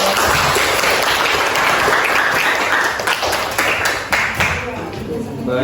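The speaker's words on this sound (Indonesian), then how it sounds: "Beri tepuk tangan untuk kelompok." A room full of people claps for a group at an academic coaching session, a dense burst of applause that holds steady for several seconds before thinning out toward the end.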